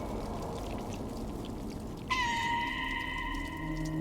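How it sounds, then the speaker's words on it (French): In the video game Stray, a cat gives a single drawn-out meow that rises sharply and then holds a steady, slowly fading tone over a low background rumble, with no talking. "J'entends ça miaule."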